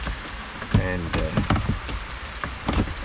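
Steady rain falls outside on a dark, cloudy day, a dense even patter of drops on surfaces, with scattered closer clicks and some soft voice-like sounds mixed into the wash.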